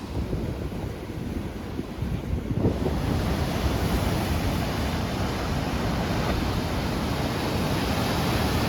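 Ocean waves and surf rolling ashore at Albufeira on Portugal's Algarve coast, a steady loud wash of breaking water with some wind rumble, swelling after a few seconds and continuing unbroken.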